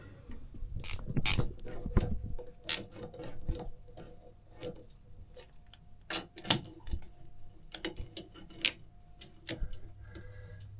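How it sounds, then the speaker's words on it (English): Bolts being tightened back in on a boat, sharp metallic clicks and ratchet-like ticks repeating irregularly at close range over a low rumble, with no talking. "There we go, and we'll get all the bolts back in."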